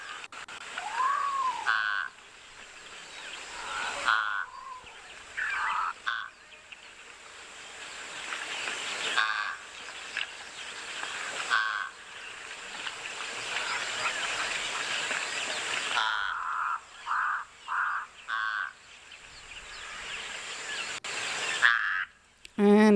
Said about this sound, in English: Sometimes these crows seem a little, or sound a little constipated